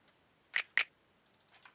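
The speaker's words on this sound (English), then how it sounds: "just a click perk." A click percussion sample in a drill beat: two crisp, close clicks in quick succession, then a few faint ticks over a quiet background.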